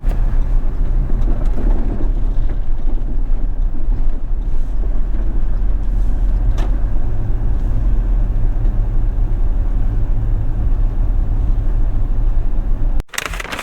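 A car drives along a safari road in Kruger National Park on a self-drive trip, its engine and tyre rumble a steady, close, low drone mixed with wind buffeting for the whole stretch, with no talking.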